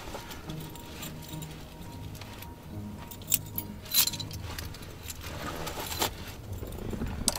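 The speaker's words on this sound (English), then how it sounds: "Well, if I can find the car keys." Keys to a Dodge Ram 1500 jingle and clink in short bursts, close by, amid quiet rustling and handling noise.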